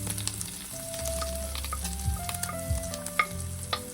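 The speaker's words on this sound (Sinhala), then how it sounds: "ඊළඟට මම බටර් ටිකක් රත් වෙන්න තියලා ඒකට අර මම හීනට කපාගත්ත ලූණු ටික එකතු කරගන්නවා." Thinly chopped onions fry in heated butter in a pan, giving a steady, close sizzle with occasional pops and stirring scrapes, and no talking.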